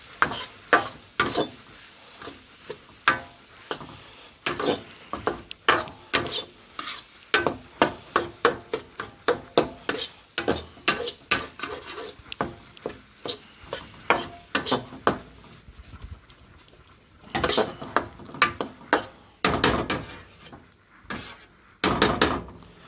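Carrots and corn stir-fried in a wok under a steady sizzle, with a spatula scraping and clanking in quick, repeated strokes throughout and a brief lull near the end.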